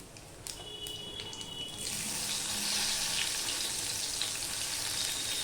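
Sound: chopped onion frying in pan with five-spice

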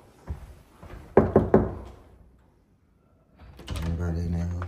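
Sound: knocking on a bedroom door

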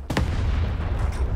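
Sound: tank gun firing

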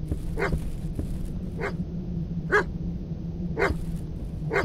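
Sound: dog barking in the video game Stay Out of the House

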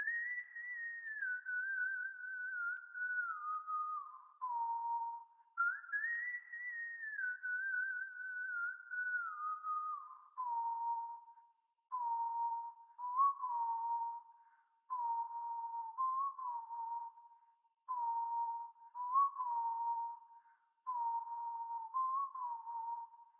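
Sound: live whistling melody for a beat

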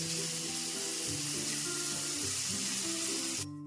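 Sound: paneer frying in a pan

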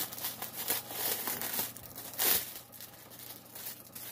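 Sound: plastic packaging crinkling

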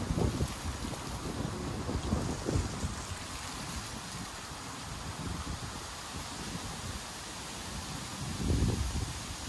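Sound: strong wind blowing outdoors

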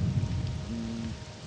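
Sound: rain falling, from the video game Morrowind

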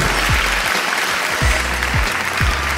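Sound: applause as someone enters a room

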